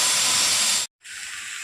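Pot of food with a little added water boiling, giving off a loud, steady hiss of steam that cuts out briefly and then resumes more softly.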